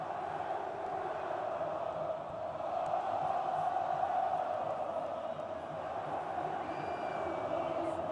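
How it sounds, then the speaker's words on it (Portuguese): A large Cruzeiro football crowd fills the Mineirão stadium with a constant distant roar of chanting and shouting, a dense sustained wash of voices with no breaks. "Daí a torcida presente em grande número e fazendo muito barulho."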